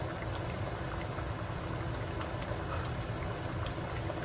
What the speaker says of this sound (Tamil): நம்ம குழம்பு நல்லா கொதிச்சிருச்சுங்க